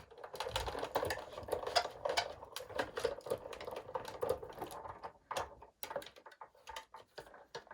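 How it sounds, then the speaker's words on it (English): A Sizzix die cutting machine cranks card through its rollers, giving close, uneven clicking and ratcheting rattles in quick bursts with brief pauses. "So I'll just die cut one more bit."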